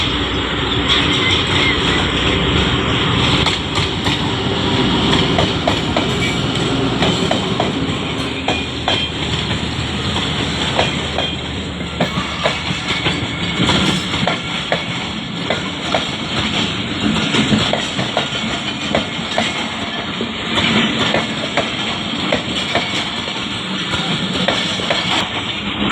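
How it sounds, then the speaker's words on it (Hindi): The 48 Down Rahman Baba Express from Peshawar to Karachi, hauled by locomotive ZC26, rolls through Golra railway station: a long, loud, continuous rumble with rhythmic clickety-clack of wheels over rail joints and faint squeals, close by. "पेशावर से कराची जाने वाली 48 डाउन रहमान बाबा एक्सप्रेस ZC26 के साथ गोल्डा रेलवे स्टेशन को पास थ्रू कर रही है।"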